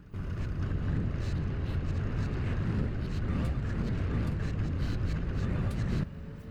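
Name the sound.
skid steer moving bottled milk pellets in Farming Simulator 25 video game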